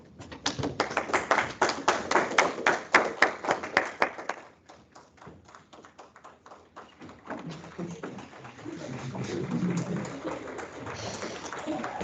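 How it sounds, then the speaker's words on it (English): Applause carries in from an adjacent room during a rocket booster design review. Sharp, evenly spaced claps run for about four seconds, then fade into soft murmuring and room noise. "The room next door is now clapping."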